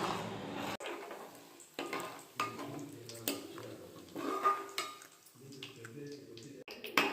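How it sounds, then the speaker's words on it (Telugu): Ghee being stirred in a pan on a stove: soft intermittent scraping and clinks of a spoon against the metal over a gentle sizzle, with a voice talking throughout. "ఇలా మధ్య మధ్యలో కలుపుతూ ఉండాలి, లేకపోతే మాడుతుంది బాగా."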